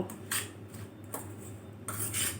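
Potato peelings being hand-mixed with rice flour in a bowl, giving soft intermittent scraping and clinking bursts close by, with quiet pauses between them.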